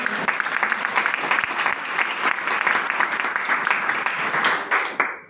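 Audience clapping at a network marketing seminar, a roomful of people applauding in a steady, dense stream for about five seconds before it cuts off.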